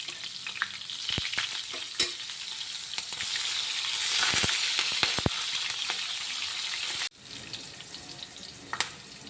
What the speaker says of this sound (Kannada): ಈಗ ಈರುಳ್ಳಿಯನ್ನು ಸ್ವಲ್ಪ ದೊಡ್ಡದು ಪೀಸ್ ಮಾಡಿ ಅರ್ಧ ಫ್ರೈ ಮಾಡಬೇಕು